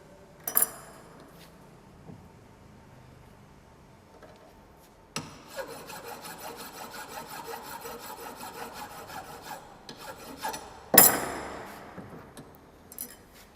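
Fine file smoothing a metal workpiece's surface, giving a steady rasping scrape in a sustained stretch, framed by a few sharp clanks and knocks of metal being handled.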